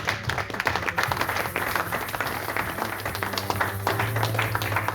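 A church congregation applauds Jesus Christ during a sermon, with steady, fairly close clapping from many hands that continues throughout over a low hum.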